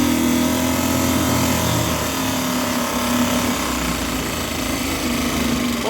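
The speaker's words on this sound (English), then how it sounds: "What an absolute sewing machine of an engine. Beautiful. Look at it, it's just nice, like single cylinder, 4-stroke." A small Evinrude single-cylinder four-stroke outboard motor idles steadily and close by, a continuous even buzzing drone with a fast mechanical chatter, running alone without any talk.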